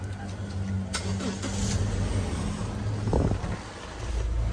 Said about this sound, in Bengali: ব্রেকে পাড়া দিলাম, পাওয়ার স্টার্ট।